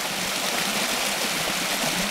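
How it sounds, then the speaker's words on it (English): Water rushes steadily through cleared drainage pipes at an acid mine drainage site in Sand Coulee, Montana, a loud continuous gushing flow heard up close with no voices. "I cleared the pipes out, and now we're actually having water move through here"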